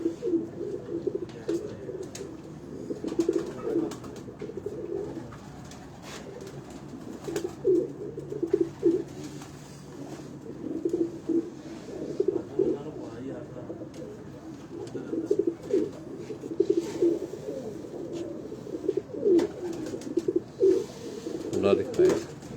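Breeder pigeons on a Lahore rooftop coo in repeated low, throaty bursts throughout, with background murmurs and occasional voices mixed in.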